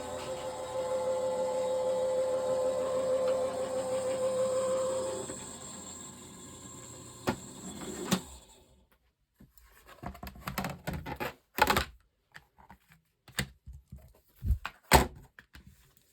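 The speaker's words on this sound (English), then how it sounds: "the roller pressure in an electronic machine is great for doing this technique" An electronic die-cutting machine rolls paper through its rollers with a steady mechanical whir for about eight seconds, then stops, followed by scattered close clicks, taps and handling noises.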